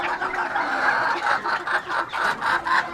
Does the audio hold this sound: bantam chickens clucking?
yes